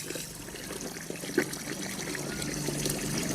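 Water pours and trickles onto rice being soaked in a large batch for chicken biryani, a short, fairly quiet splashing flow with one brief louder splash midway.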